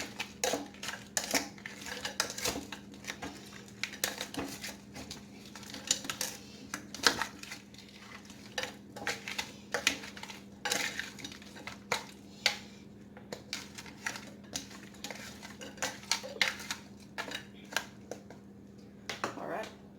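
A spoon stirs a crockpot dump-and-go dinner, giving a steady run of small clinks and scrapes against the pot over a low background hum.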